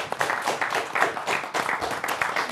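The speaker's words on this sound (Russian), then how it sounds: "Аплодисменты, конечно." Steady crowd applause, a dense wash of many hands clapping at moderate loudness throughout.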